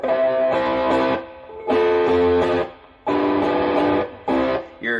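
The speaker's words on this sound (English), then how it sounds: "So that usual, very calm and cool, gentle ukulele tone can be replaced with a little bit of distortion, a little bit of edge." Ukulele strummed through a Trainer YCV40 amp with added distortion, four loud gritty chord blocks each held about a second with short gaps between, ending in a brief slide.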